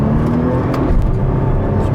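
A Nissan R35 GT-R accelerating hard, a loud, steady engine roar with road and wind noise filling the whole short stretch.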